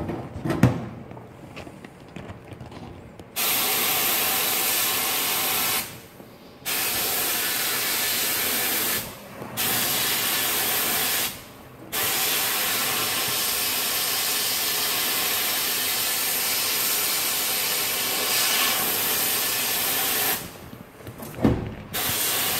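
A ToolPRO 100L sandblasting cabinet blasts in long, loud bursts of steady hissing air, cut by brief pauses, with quieter handling clunks before and after.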